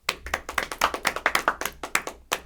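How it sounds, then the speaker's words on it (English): A small audience at a talk show claps in scattered, uneven bursts, with a dozen or so sharp close hand claps that start and stop irregularly over a couple of seconds. "How many people, clap if you think he's a Trump supporter."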